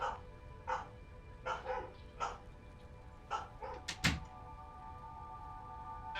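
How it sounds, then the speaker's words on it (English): Several dogs barking excitedly indoors in short bursts, about eight sharp barks and yips spread unevenly with pauses between them, fairly close and loud. "Dogs are very loud, very excited that their mother is home."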